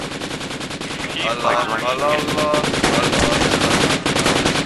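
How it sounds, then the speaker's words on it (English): Rapid automatic gunfire from the military shooter game Project Reality, loud and continuous bursts with chanting and shouting voices over it. "There are other people shooting at me."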